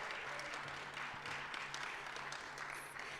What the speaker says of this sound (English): let's give Constance Case another round of applause, please.